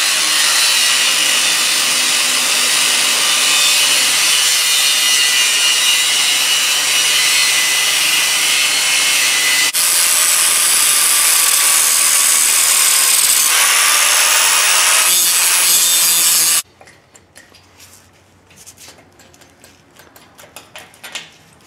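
An angle grinder cuts a rectangle out of metal plate with a loud, continuous high whine for about sixteen seconds, its pitch shifting slightly as the cut changes direction, then stops abruptly, leaving faint handling clatter.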